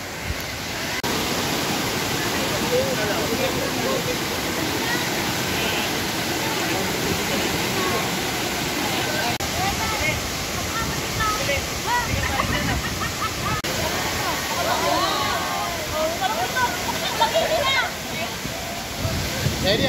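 Hulugan Falls roars in a constant, dense wash of falling water heard up close, with a faint voice briefly under the rush.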